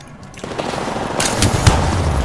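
Gunfire in Apex Legends, a close flurry of rapid shots that swells out of low background rumble and keeps going, loud and dense to the end.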